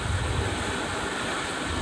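Waves wash onto a shoreline beside a backpacking trail, a steady broadband rush close by with soft wind noise mixed in and no speech.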